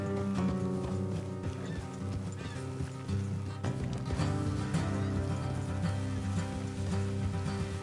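Horses galloping in the Red Dead Redemption 2 video game, a steady rapid drumming of hooves on dirt under a dense wash of ambient noise and music, continuous and fairly loud throughout.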